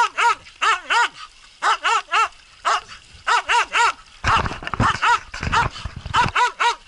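A hunting dog barks at a marten caught in a trap in the forest, giving loud, close, repeated barks in quick bursts with brief pauses and a rougher, noisier stretch midway.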